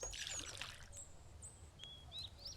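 Water pours into a bottle being filled in the survival video game Mist Survival, a steady splashing trickle, with short, thin bird chirps in the background and no talking.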